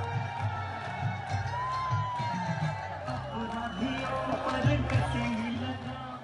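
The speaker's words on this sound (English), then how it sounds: "The huge crowds at Mayawati's official campaign launch" A huge crowd at Mayawati's campaign rally in Meerut roars in a steady outdoor din, with cheers and shouts rising and falling throughout.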